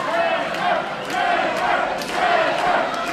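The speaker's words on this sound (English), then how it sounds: "Again, no doubt who the crowd is behind." A wrestling crowd cheers and roars in a steady, loud wash of voices during a match between Remi Wilkins and Trevor Court, swelling in waves with no clear pauses.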